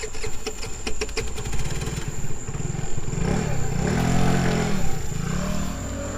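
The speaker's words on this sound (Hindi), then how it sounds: "मेरे पास एक स्कूटर है, हम उसी से चलेंगे।" An old scooter engine runs steadily with a loud, low rumble and mechanical clatter that holds throughout, swelling slightly toward the middle.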